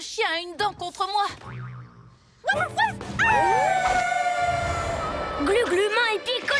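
Cartoon dog from PJ Masks letting out a howl and yips amid lively animated dialogue and sound effects, with a long rising howl running through the middle of the scene over background voices.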